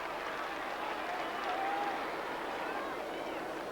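Football crowd at a 1990 Australian rules finals match in Melbourne, North Melbourne against Geelong, a steady, distant wash of cheering and crowd noise with a swell in the middle, no clear voices on top.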